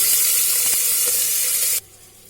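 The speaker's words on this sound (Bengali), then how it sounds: "বেশ খানিকটা পরিমাণ সাদা তেল আমি কুকারে দিয়ে দিচ্ছি এবার এতে আমি গোটা গরম মশলাটা দিয়ে দিচ্ছি দিয়ে আমি এতে পেঁয়াজ কুচিটা অ্যাড করে দেব" Whole garam masala and chopped onion fry in white oil inside a pressure cooker, a loud, dense sizzling hiss up close that cuts off abruptly near the end.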